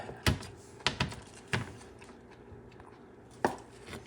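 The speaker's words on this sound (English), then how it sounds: "Cut your cabbage." A knife chops cabbage and tofu on a cutting board in a few sharp, separate knocks, clustered early and then one more after a pause, close up with no talking.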